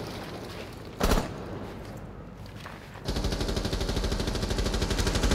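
Gunfire in a ranked online shooter match: a single sharp shot, then a rapid, steady burst of automatic fire that continues to the end, loud and close with no talking.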